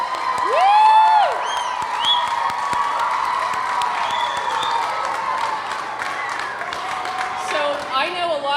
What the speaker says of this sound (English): So you want to give America a round of applause?